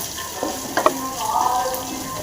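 Garlic and chili stirred in a sizzling pan: a steady frying hiss with a few scraping clinks of the spoon against the pan, close and moderately loud over a couple of seconds.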